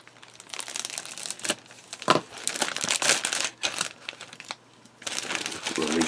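Crinkling and tearing of a plastic bag holding 1/35 scale model-kit sprues for an Sd.kfz.184 Ferdinand, close and loud in repeated bursts over about six seconds.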